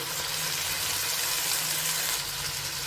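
Onions frying in a pan with tomato pieces added, a steady loud sizzle throughout with no voices.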